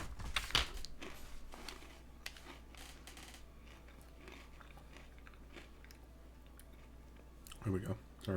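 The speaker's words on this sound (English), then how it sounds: "Sorry about the loud chewing. It's a very loud food item." Close-up chewing of a crunchy food, with irregular crisp bites and crunches that are loud at the start and again near the end, separated by quieter mouth noises.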